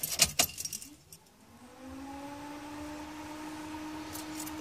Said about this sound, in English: I'll turn my key on.